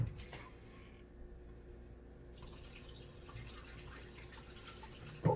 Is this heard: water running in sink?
yes